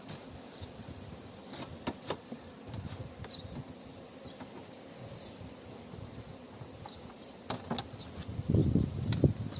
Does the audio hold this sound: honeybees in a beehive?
yes